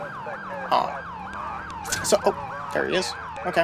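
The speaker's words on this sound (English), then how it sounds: "Still using the, that smart signal siren thing from episode 9." A wailing, whooping police siren from the LCPDFR mod of a police driving game cycles rapidly and continuously up close, while someone speaks briefly over it and sharp bursts of other noise cut in.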